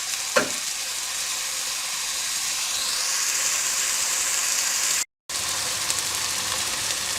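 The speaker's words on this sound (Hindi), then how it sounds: "सब्ज मिर्च, प्याज को हम 2 से 3 मिनट तक भून लेंगे।" Green chillies and onions fry in a hot pan with a steady, close sizzling hiss and a brief stirring scrape near the start. The sizzle runs almost unbroken, with a short gap partway through.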